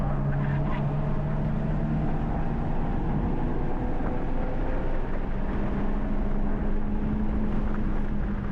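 A race car engine on a track drones steadily at moderate distance, a continuous hum that shifts pitch partway through, with no talk.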